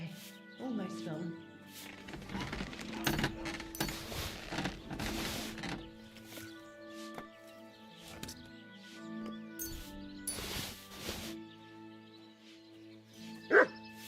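A dog in the medieval Kingdom Come II video game gives short yips and barks scattered among game music and sounds, with a voice talking in places.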